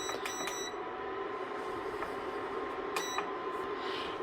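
A kitchen timer beeps during yarn dyeing: a few short, bright electronic beeps at the start and again near the end, heard over a quiet background hum.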